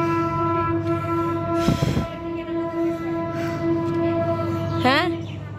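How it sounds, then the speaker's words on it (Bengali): A train near a Buddhist temple in Cox's Bazar runs past with a steady droning rumble, and a brief horn blast sounds midway. Faint voices are heard under it. "ট্রেন গেছে।"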